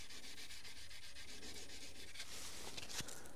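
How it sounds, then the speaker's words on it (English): A rag rubbing steadily over the dirty underside of an old bulldozer left in the bush for years, a soft continuous scrubbing that turns brighter and scratchier toward the end, close by with no talk. "Maybe I should get a piece of rag and wipe underneath them."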